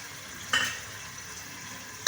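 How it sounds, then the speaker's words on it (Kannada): Onion and coriander leaves hit hot oil in a pan for sambar tempering, giving two short, faint bursts of sizzling with a quiet hiss between them. "ಸ್ವಲ್ಪ ಫ್ರೈ ಮಾಡ್ಕೊಳ್ಳೋಣ."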